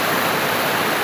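A stream rushes over a small dam during rain, a loud, dense, continuous roar of falling water heard up close with no pauses.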